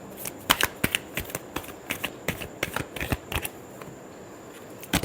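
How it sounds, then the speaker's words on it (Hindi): Tarot cards being shuffled by hand, a quick series of crisp riffling clicks and slaps in irregular bursts, close and alone. "Last shuffle."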